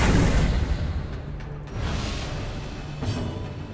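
Ransack attack skill effect from Darkest Dungeon, a dense, noisy burst of whooshing impact and crashing layered blows, loud at first then a second surge midway and another hit near the end, with no voices.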